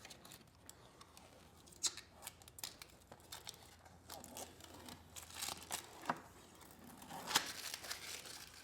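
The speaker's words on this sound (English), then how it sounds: "Let's go ahead and peel the plastic off here." Protective plastic film is peeled off a 2024 Mustang Dark Horse part, a quiet close crinkling and tearing with scattered sharp crackles and peeling rasps, low in level and with no talking.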